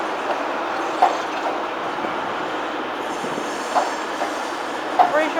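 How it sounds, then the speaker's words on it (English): Class 43 Meridian train 43-055 at London St Pancras International, coupled and terminating in from Nottingham, heard as a steady rolling rumble inside the station with a few faint squeals and clicks, and a voice speaking briefly. "There's that Meridian coupled. It's 43-055."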